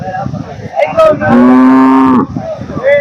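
A cow at a cattle fair in Punganur, where HF and Jersey cows are shown, gives one long, loud, low moo close by, rising in the middle and trailing off, with quieter farmyard noise before and after.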